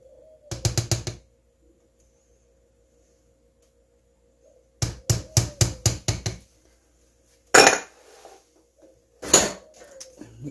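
A utensil clinking against a bowl while casserole sauce with Dijon mustard is mixed, quick clusters of sharp taps with pauses between, close and clear.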